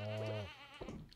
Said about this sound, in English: Why do I keep trying to milk this one goat that doesn't want to get milked?